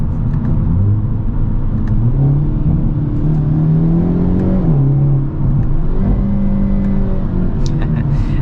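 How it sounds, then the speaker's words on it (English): A 2022 Hyundai Elantra N revving hard from inside the cabin, loud droning engine tones rising and falling through gear changes, with brief sharp exhaust crackles toward the end. "Pops and crackles sound amazing."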